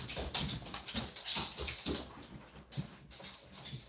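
A dog whimpers to be let outside, giving soft, repeated whines in short bursts, fairly close and quiet indoors.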